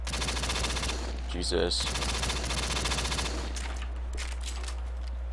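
Dense rapid gunfire from Black Ops 3 zombies mode, loud and sustained for several seconds, with a brief spoken exclamation over the shooting.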